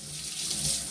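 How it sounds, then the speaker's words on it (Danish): A kitchen tap runs for hand washing, a steady close hiss of water into the sink for about a second, with no talk. "Det minder mig om, at jeg lige skal huske at vaske hænder."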